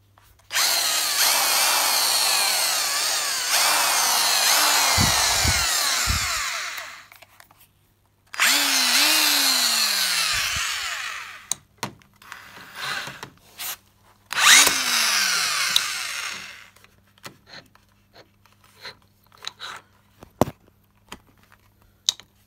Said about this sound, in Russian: Шуруповерт в рабочем состоянии.